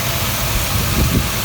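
A 2001 Ford Explorer with a 4-liter engine and over 300,000 miles idles smoothly and quietly, a steady low close purr with no other sounds.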